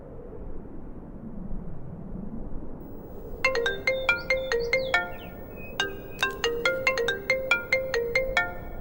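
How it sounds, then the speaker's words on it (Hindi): A phone ringtone plays a bright, repeating melodic pattern of clear electronic tones, starting after a few seconds of low background hum. "तुम्हारी मम्मी का फोन है।"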